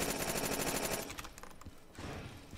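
Rapid automatic gunfire from guns in Call of Duty Black Ops 3 custom zombies, a dense rattling burst that breaks off into scattered shots, pauses briefly, then resumes as a further stretch of fire.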